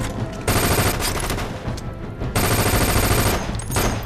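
Automatic gunfire from a horror-film firefight roars in long, loud, sustained bursts, with a brief lull between two dense volleys of rapid shots.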